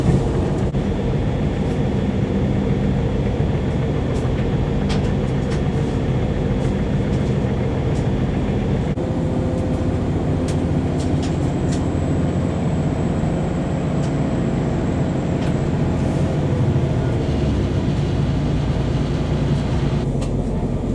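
A TransPennine Express passenger train travels on rails approaching Leeds, heard from inside as a continuous loud rumble and rattle of wheels and carriage, steady with occasional clunks.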